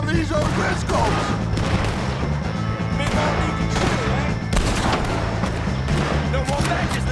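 Gunfire in Red Dead Redemption 2 during a shootout with O'Driscolls, dense repeated rifle and pistol shots with booming reports over music and distant shouting.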